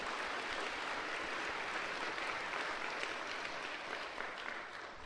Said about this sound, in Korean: 나팔 소리 울리듯이 힘찬 박수 한번 주십시오.